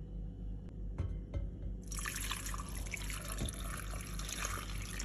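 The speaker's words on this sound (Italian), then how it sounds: "andiamo ad inserire dell'acqua." Water pours into a small pot holding orange peels, a loud steady splashing stream that starts after a few soft drips and clinks and carries on to the end.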